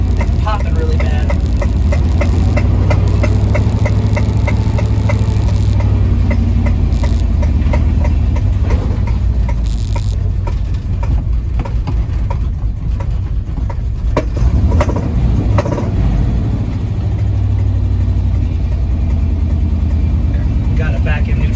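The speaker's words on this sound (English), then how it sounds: "Something is wrong with this engine. It's popping really bad." Chevy squarebody truck with a faulty engine running rough, a low, uneven idle broken by irregular pops and sputters throughout, close by, with people talking over it.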